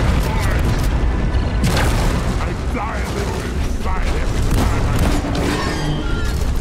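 Explosions and mechanical clatter from the co-op mining shooter Deep Rock Galactic, a modded hazard-6 mission with turrets firing, booming loudly and continuously under voices talking.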